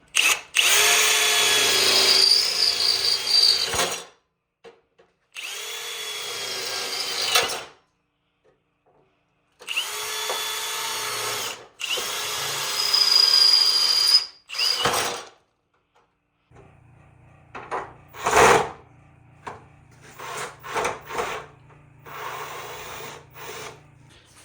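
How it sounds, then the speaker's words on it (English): A power drill whirs in several loud bursts separated by short pauses, drilling holes in a vehicle's rear hatch, followed by quieter scraping and a low steady hum toward the end. "We're gonna drill holes in there."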